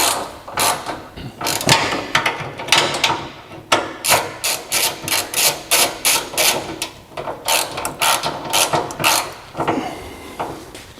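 A ratchet tightens the bracket bolts on an Asfir fuel tank skid plate, with a long run of rapid rhythmic clicking strokes, loud and close, with brief pauses between bursts.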